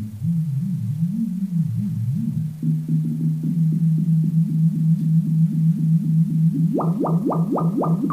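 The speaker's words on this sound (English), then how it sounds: "So what you're hearing is this sine wave being modulated by that" A sine wave on a Reason Maelstrom synthesizer holds a low steady tone, then repeating modulated blips pulse over it in an accelerating rhythm, jumping higher near the end, loud and alone.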